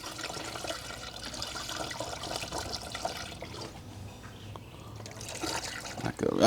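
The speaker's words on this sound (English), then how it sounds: "Just low on coolant, so I'm gonna top it off." Coolant poured into the reservoir of a Ford F150, a steady trickling liquid sound running continuously at moderate level with faint background noise.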